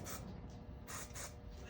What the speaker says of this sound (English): I'll spray a little bit probably on the handlebars and on the inside.